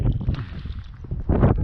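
Strong gusting wind buffets the microphone outdoors on the bank of the Pechora river during a fishing trip, a low rumbling roar that swells loudly near the end.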